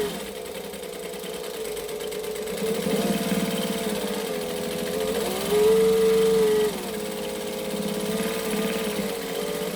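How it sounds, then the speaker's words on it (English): A sewing machine runs steadily, basting quilted fabric pieces together around the edges before binding, with a continuous motor whir that speeds up in a couple of brief surges. "I am going to baste them all together"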